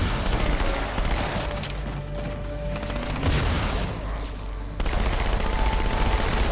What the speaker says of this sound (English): I hear shooting happening.